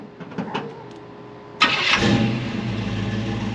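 A 1964 Chevelle in neutral goes from a quiet idle to a loud, sudden engine rev when the throttle is tipped, then holds a steady roar to the end.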